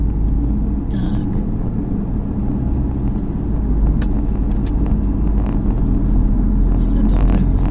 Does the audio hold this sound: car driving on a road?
yes